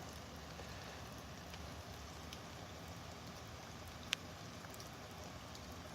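Steady rain falling outdoors during a storm on a fishing outing, a continuous broadband hiss of drops on surfaces at moderate level with no talking, plus a single sharp tap near the four-second mark.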